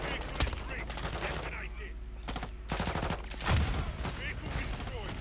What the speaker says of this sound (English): Oh god, wait, I have like no ammo.